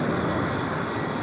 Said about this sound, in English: A C-130 cargo plane begins its approach